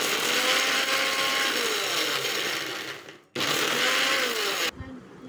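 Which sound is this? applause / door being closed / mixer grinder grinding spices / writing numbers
mixer grinder grinding spices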